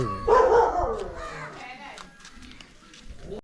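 A dog barks a few times nearby near a temple, loud at first then fading, with people talking over and after it.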